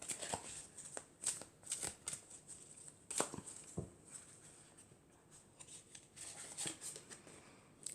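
A deck of oracle cards is shuffled close up in a quiet room, giving soft papery riffles and flicks in uneven bursts, with light taps and scrapes in between.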